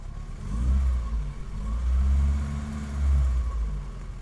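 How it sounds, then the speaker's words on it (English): A 1971 BMW 2002 engine revs up several times at close range, rising and falling in three broad surges over a steady low idle rumble, with no talking. "Let me rev it up a little bit."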